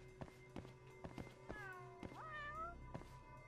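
In the video game Judgment, a cat meows several times in short rising and falling calls, with soft footstep-like taps and a steady background hum.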